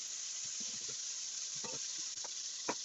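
Small cubes of beef brown in a pan with a steady, even sizzle heard up close at moderate volume, broken by occasional soft stirring scrapes and taps, with no talking.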